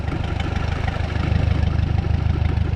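A 1956 Case 411 tractor fitted with a loader idles with a steady, loud, low rumbling throb that stays even from start to end, with no speech.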